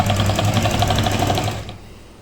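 A sewing machine stitches a folded hem on a chaak daman, a fast even rhythmic whir of needle strokes close by, slowing and fading out near the end, with no talking.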